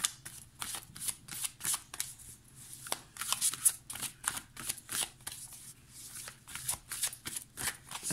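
Angel tarot cards being shuffled in quick repeated bursts of crisp riffling and flicking, close and fairly quiet, with no talk over them.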